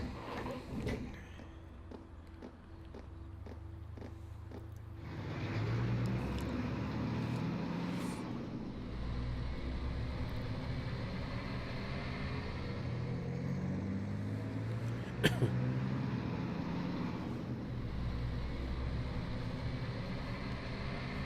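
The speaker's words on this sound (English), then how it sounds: "We boarded the armored cars and set off toward the proving grounds." Armored military cars from the game Trails of Cold Steel rumble along toward a proving ground, a steady low engine drone with faint mechanical rattles and a brief clank, no talking.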